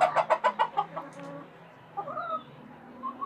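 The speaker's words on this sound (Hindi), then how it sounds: "मुर्गे लड़ते हैं, मुर्गियाँ भी लड़ती हैं" Australorp and desi hens cluck loudly in a rapid burst of repeated calls, then quieter scattered clucks and squawks follow as the birds scuffle.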